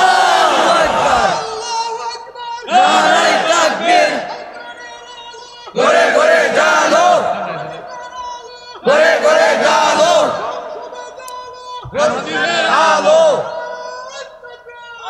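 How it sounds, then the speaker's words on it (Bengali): A large crowd at an outdoor religious gathering roars slogans in unison, five loud chanted bursts repeating at a steady rhythm with short quiet gaps between them, voices massed and echoing. "বসো দাও আবার স্লোগান দাও"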